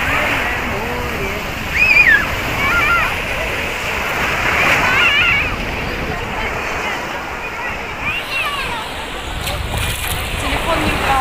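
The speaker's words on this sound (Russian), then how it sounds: "Обалденное море!" Warm sea surf washing and splashing on a crowded beach at the Susanoğlu resort, a continuous close wash of water with someone talking excitedly over it.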